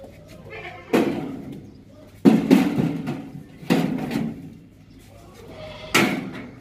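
At a livestock market where goats are sold for Eid, a goat gives several sharp, loud bleats spaced a second or two apart, with a voice talking between them.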